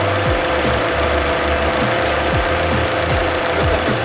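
A 2010 Chevy Aveo idles with its AC compressor engaged, giving a loud, steady engine drone with a constant ticking, rattling pulse repeating over and over, heard close up with no talk.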